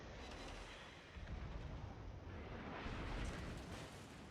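Battleship Kearsarge firing an armour-piercing salvo in World of Warships, a low, rumbling blast that swells and rolls on for several seconds, fairly quiet and heavy.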